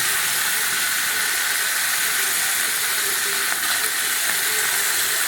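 Dissolved tamarind water hits a hot pan of sautéed ingredients for a black nightshade berry kara kuzhambu, producing a loud, continuous sizzling hiss that stays even throughout with no voices.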